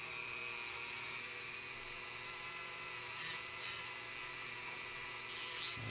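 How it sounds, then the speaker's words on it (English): A steady, high-pitched whine of a Dremel rotary tool with a sanding bit on metal runs throughout, with brief louder grinding bursts near the end. "Loud Dremel noises in 4"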